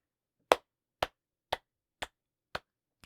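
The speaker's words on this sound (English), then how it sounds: "Snaps and claps, baby." Six crisp finger snaps and hand claps land one after another at an even, unhurried pace, each a short, sharp crack in otherwise near silence.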